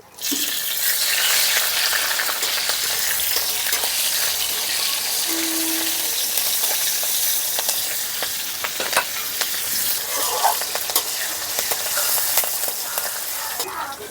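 Green chillies sizzle steadily in hot oil in a village-style Bengali kitchen, a loud continuous frying hiss with occasional stirring clatter, close and unbroken by talk.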